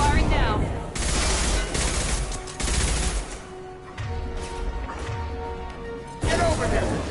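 Dense gunfire and crashing combat sounds from the video game Mass Effect 2, loud bursts in several waves with brief lulls, layered under game music and voices.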